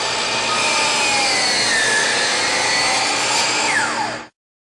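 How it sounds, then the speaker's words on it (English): A DEWALT miter saw set at 45 degrees slicing through crown molding in a nested position, a loud close whining buzz with the blade's pitch shifting under load, then winding down and stopping abruptly near the end. "To cut the right side, set the miter to 45 degrees on the left and make the cut."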